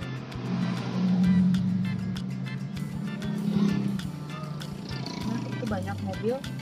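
Car engines rumble and idle steadily in a crowded parking area at Pangandaran beach's Sunset Park, with a loud low drone swelling and fading and a voice talking over it.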